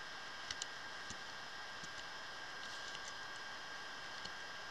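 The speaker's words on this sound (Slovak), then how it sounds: "Myslím, že prestane pršať." Rain falling in the game Minecraft makes a faint, steady patter with scattered soft ticks and drips, heard alone without talk.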